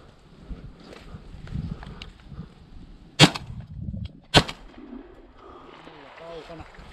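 Two loud shotgun shots about a second apart while hunting pigeons outdoors, sharp and close over quiet background with faint bird sounds and low voices.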